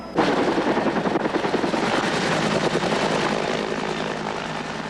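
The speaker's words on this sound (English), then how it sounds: "All day today, helicopters are trying to douse the flame." Steady, loud thudding of firefighting helicopter rotor blades overhead at a wildfire, a continuous rapid chop that fills the scene and slowly fades slightly.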